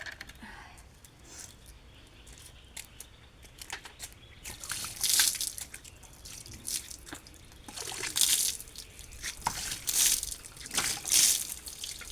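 Water poured from a bucket splashes in several bursts, sloshing loudly at close range with quieter trickling between pours.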